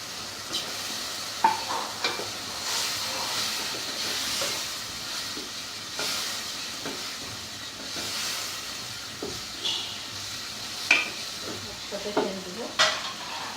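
Fish and dried fish fry in spiced oil with a continuous hissing sizzle, punctuated by occasional stirring clinks and sharper spatters, close and moderately loud.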